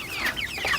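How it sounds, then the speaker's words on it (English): Clucking from a large hen near chicks being fed, a rapid run of close, fairly loud squawky clucks with no talk over them. "Oh no! Big chicken! Big chicken!"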